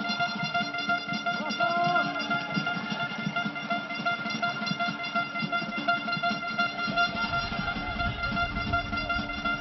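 A fan in the stands of a football stadium keeps blowing an air horn at a Brazilian league match. The horn drones as one steady, sustained blare over the crowd's din.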